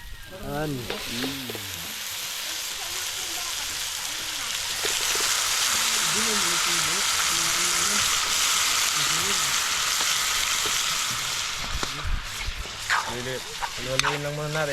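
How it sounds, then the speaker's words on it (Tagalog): Carrots sizzle and crackle steadily in a hot frying pan while a utensil stirs, with a voice speaking over it at the start and end. "Haluin natin yung carrots."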